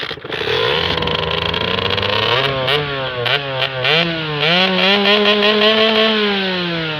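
Sherco motorcycle engine revving up and down close by, a loud buzzing two-stroke-style whine that climbs in pitch across several throttle blips and holds steady, no talk over it.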